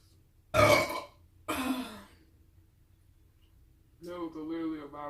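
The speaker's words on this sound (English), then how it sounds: "you will hear a surround sound with that burp" Two loud, close burps in quick succession at a chicken and waffles mukbang burping contest, followed by a short stretch of speech.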